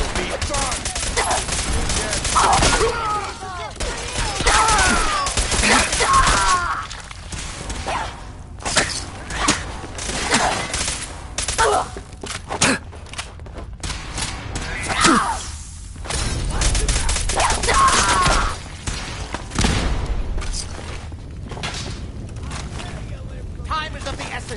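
Gunfire from a gun in Fallout 4, with repeated sharp shots and bursts spread through the clip amid whooshing and mechanical clatter, with voices at times.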